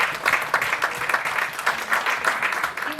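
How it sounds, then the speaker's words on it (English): Audience applause at a writers festival: dense, steady clapping from a crowd that holds at a fairly even level for about three seconds, with no voices over it. "May we have a round of applause for him"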